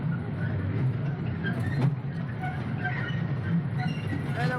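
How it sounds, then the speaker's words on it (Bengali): A small park toy train rolls along with a steady low rumble and light rattling, fairly close, with a brief squeak partway through. "আমাদের টয় ট্রেন আস্তে আস্তে এগিয়ে চলছে"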